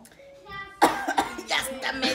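A person coughs after sipping a cold drink, a sharp burst followed by a few short throaty coughs and throat clearing, close and loud, preceded by a brief voiced sound.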